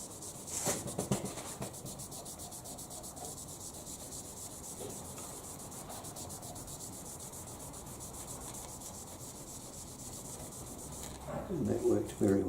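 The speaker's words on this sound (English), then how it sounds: "I'll just use the tip of the Scotch-Brite" A worn, second-hand Scotch-Brite pad is rubbed steadily against a metal surface being prepared for chemical blueing, giving a continuous close scrubbing hiss with a louder scuff at the start and near the end.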